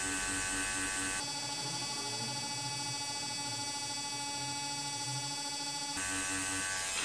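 A tattoo machine needle shading a black and grey realism piece gives a steady, close electric buzz that runs almost unbroken for several seconds, with a slight change in pitch near the start and end.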